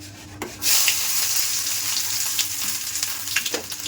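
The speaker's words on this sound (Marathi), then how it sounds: "मस्त फ्राय करून द्यायला कांदा याला." Chopped onion hits hot oil for an egg dish, bursting into a loud, sudden sizzle that holds steady and close, with a few light stirring scrapes and no talking.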